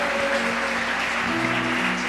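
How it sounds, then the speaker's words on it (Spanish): Congregation clapping at a church service, a steady dense wash of applause filling the whole span, with a sustained musical tone underneath. "Démosle otro fuerte aplauso al Rey glorioso, poderoso, maravilloso, digno de alabanza."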